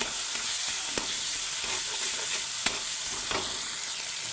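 Spices and cabbage frying in hot oil with chilli and turmeric, stirred in a pan: a continuous close sizzle, punctuated by occasional scraping clicks of the spoon against the pan.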